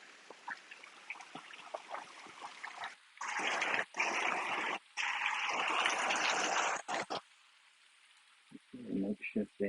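Water spills over a small makeshift dam beside an outdoor stage area with seats. Bursts of splashing and trickling come and go unevenly, with quiet gaps between them and a voice talking at times.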